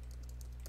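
A short burst of typing on a computer keyboard, quick quiet key clicks in a fast, slightly uneven rhythm over a low background hum.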